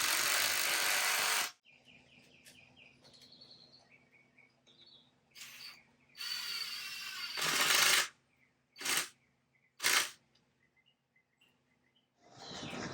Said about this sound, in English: now I can put in the remaining screws